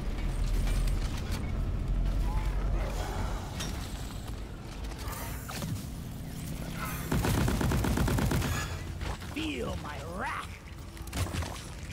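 In Deep Rock Galactic, an automated sentry gun rattles out rapid mechanical bursts of fire amid clanking gear and mining noise, loud and close, with a dwarf character's voice calling out over the action.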